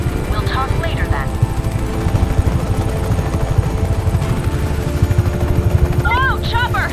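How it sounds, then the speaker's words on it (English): A helicopter approaches in a video game, a loud, steady rotor-and-engine roar that fills the whole stretch, with brief voices near the start and end. "Whoa! Chopper! Heads up!"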